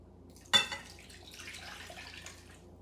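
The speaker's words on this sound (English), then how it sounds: "Now need to add our 440 grams of water to our bowl." Water poured into a bowl, 440 grams for a fermentation recipe: a sharp splash at first, then a soft, steady trickle and slosh that fades, faint and close.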